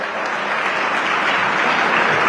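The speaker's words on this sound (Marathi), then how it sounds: "सगळ्यांनी एकदा जोरदार पुन्हा साहेबांच्यासाठी टाळ्या वाजवल्या पाहिजेत" Audience at a political speech in Solapur clapping, a steady dense wash of many hands applauding together, loud and even throughout with no break.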